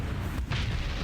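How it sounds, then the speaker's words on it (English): Hellfire cannons fire in the space combat game Starsector, producing a brief burst of deep, booming low thuds with a sharp break in the middle, heavy and close, with no voices. "Using their Hellfire cannons to take them down."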